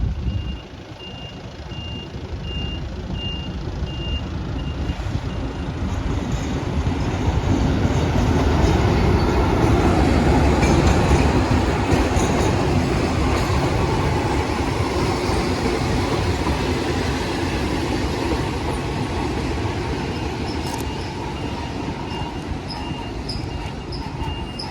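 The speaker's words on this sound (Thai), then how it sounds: "รถไฟ" A Laos-Thailand train rumbles and rolls into the station steadily with rhythmic wheel clatter, while a repeating high beep sounds over the heavy, loud approach.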